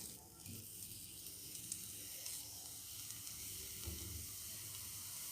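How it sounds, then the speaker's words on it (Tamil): Indian borage leaves sauté in a pan with a faint, steady hiss and sizzle, low and even throughout, with no talking. "இது நல்லா வதங்கட்டும்."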